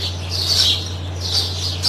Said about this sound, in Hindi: इस वाली बेल पे जो चिड़ियाँ हैं वो मुसलसल चहचहा रही हैं।